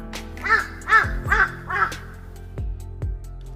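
Four harsh caws in a quick series, then a pause and a couple of lower thumping notes, fairly close and clear.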